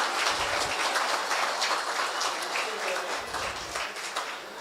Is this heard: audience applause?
yes